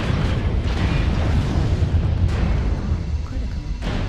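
A mech blows up during a MechWarrior battle, a loud, deep rumbling explosion with a sharp crack that rolls on and slowly decays, close and heavy, with a later burst near the end.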